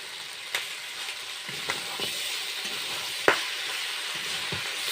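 Broiler chicken raised at home sautéing with ground spice paste in a pan, a steady close sizzle broken by several sharp scraping stir strokes, the loudest near the middle; no voices.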